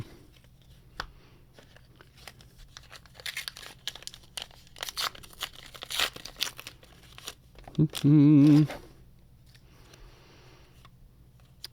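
Star Wars Shadows of the Galaxy card packs torn open and handled up close, with bursts of crinkling and tearing wrapper. A short, loud tonal squeal sounds near the end.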